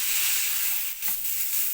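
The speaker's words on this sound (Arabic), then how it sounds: "وهنفضل بقى نشوح فيها كده يمين وشمال لغايه ما تاخد بقى علامات الشوي الجميله" A smoked chicken breast sears in a pan, a steady close hiss and sizzle that dips briefly as the meat is shifted side to side.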